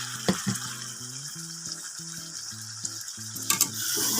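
Meat coated in yogurt and spices frying in a kadai, a soft steady sizzle with a few stirring scrapes and clinks, while a low tonal hum and melody play underneath.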